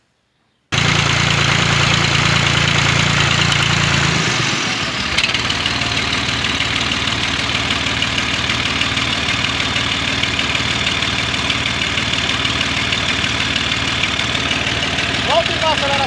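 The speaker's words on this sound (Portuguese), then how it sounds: "Agora segue o vídeo da pressão do motor." A Valtra A850 tractor's AGCO Sisu Power 320DS diesel engine runs close by, a steady loud rumble after an initial shift in pitch around four seconds, then settling into an even idle that continues throughout.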